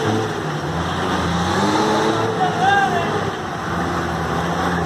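Chevrolet Chevette with turbo and nitro revving steadily, a loud continuous engine drone with people talking over it.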